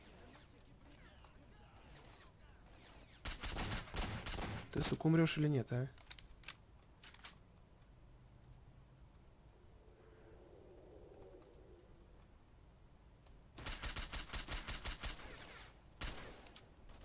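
Bursts of rapid gunfire from a firefight in a S.T.A.L.K.E.R. mod, two loud volleys several seconds apart with quieter game ambience between, while someone speaks over the shooting.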